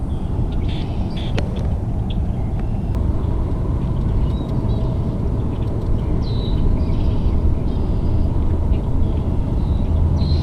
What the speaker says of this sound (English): You can probably hear all the cars on the highway too